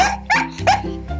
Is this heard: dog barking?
yes